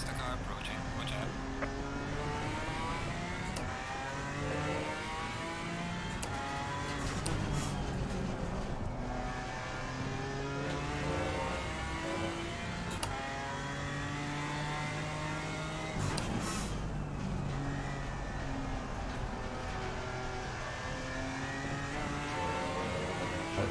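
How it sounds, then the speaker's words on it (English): Race car engines in a British GT racing video game, with a faster car closing in behind, its note rising and overlapping the player's car under steady speech throughout. "Faster car approaching."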